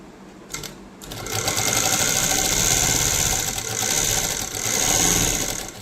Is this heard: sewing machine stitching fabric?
yes